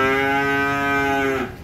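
A cow moos at a cattle farm in Vinh Long, one long, loud, close, drawn-out bellow that tapers off at the end.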